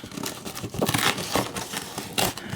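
A cardboard package of dominoes is ripped open by hand, producing close, loud tearing and crinkling bursts in quick irregular succession.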